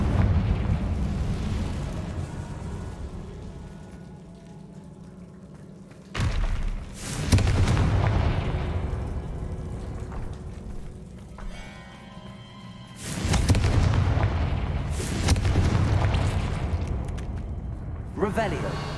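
Confringo fire-blast spell cast in Hogwarts Legacy, a sudden loud burst followed by a crackling rumbling decay, repeated twice amid low ambient game music.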